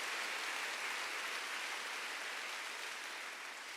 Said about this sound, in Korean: 깨달은 사람만 박수 크게 쳐보세요